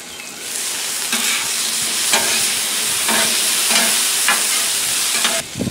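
Asparagus cooks on a griddle under a cheese melter dome, filling the space with a loud, continuous close sizzle. Faint scraping ticks recur roughly once a second, and the hiss cuts off sharply near the end.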